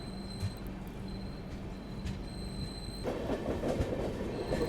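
A long-distance Indian passenger train on the Mysuru to Varanasi route pulls away, with a steady rolling rumble that grows louder and busier partway through, plus faint high squeals from the wheels.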